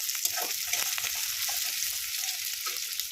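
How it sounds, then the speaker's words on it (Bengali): Prawns fry in oil with a bright, continuous sizzle and scattered crackles, heard close and steady with no voices. "এই দেখো চিংড়ি মাছগুলো দিয়ে দিচ্ছি আস্তে আস্তে তেলেতে।"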